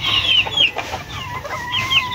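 Several quality laying hens cluck and squawk nearby in short, repeated bursts, with no talk.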